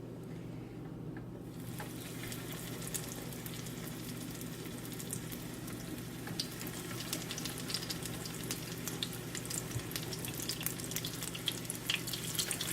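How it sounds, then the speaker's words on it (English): Chicken potato cutlets shallow frying in oil in a pan, a steady close sizzle and crackle throughout, with the sound rising slightly as the cutlets go in. "in my pan I have taken some oil to shallow fry these cutlets"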